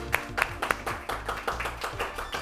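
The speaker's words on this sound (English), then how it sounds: "Round of applause for everybody here today." Clapping from a small audience at an elementary science bowl match, a sparse run of individual hand claps, fairly close and uneven in rhythm.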